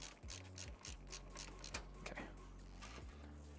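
Ratcheting clicks and mechanical turning while a bolt is tightened during a PC build with a TeamGroup Siren GA360 cooler, a quick run of close clicks in bursts, no talking.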